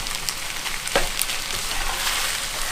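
Macaroni with spicy chicken and Thai basil leaves stir-fries in a hot pan, giving a steady close sizzle with scraping stirs and small crackles throughout, no voices.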